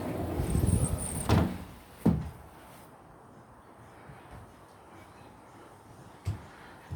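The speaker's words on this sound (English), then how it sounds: "We go out onto the deck from this door" A household door leading out onto a back deck opens, giving a few sharp knocks and thuds, with a brief rattle early on, a louder thunk a moment later and a faint knock near the end against quiet room noise.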